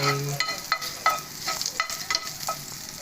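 Garlic sautéing and being stirred in a pan while cooking a vegetable dish, with a steady close sizzle broken by repeated clinks and scrapes of the spatula.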